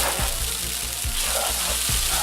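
Packet instant noodles frying in a pan: a steady close sizzle with soft periodic stirring thumps, no talking.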